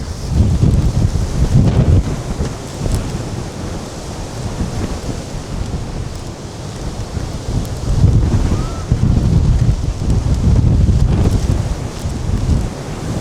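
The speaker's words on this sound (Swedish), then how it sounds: "Jädrar vad det blåser nu." Strong gale wind during a storm in Carcassonne, France buffets the microphone in heavy rumbling gusts, surging and easing, loud and continuous with no voices.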